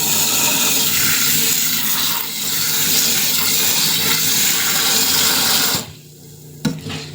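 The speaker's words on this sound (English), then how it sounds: "I'm gonna wash the rice 3 times so I can take all the starch out of it" Cold water being poured and swished over rice in a pot, a steady loud rushing and splashing that cuts off abruptly near the end, followed by a few light clinks.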